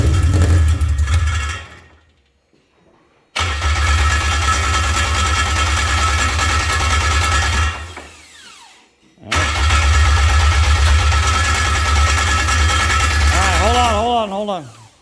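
A K24 engine swapped into a Toyota MR2 cranks repeatedly in two long, loud, rhythmic stretches separated by a short silence, with the starter churning steadily and no catch, while voices talk over it.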